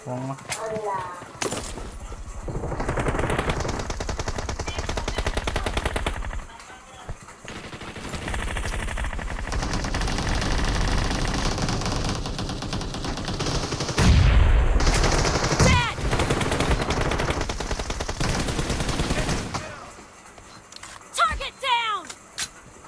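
Dense automatic gunfire and rapid shots from the mobile battle-royale game PUBG Mobile, loud and sustained with game effects, while players talk over it.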